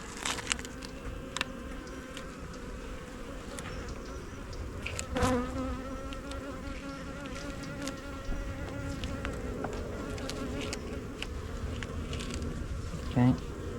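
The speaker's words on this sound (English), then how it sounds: "Okay, go away wasp." Bees and a wasp buzzing steadily around an open beehive during an outdoor inspection, a continuous close droning hum with individual insects passing near at moments.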